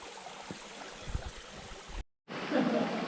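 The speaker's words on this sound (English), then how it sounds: "walking down lovely little wooded valleys with streams gurgling through them" A stream gurgles and trickles through a wooded valley in the Blue Mountains, making a steady, airy wash of running water heard from nearby, briefly cut off before resuming.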